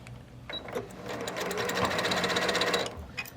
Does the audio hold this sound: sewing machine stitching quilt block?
yes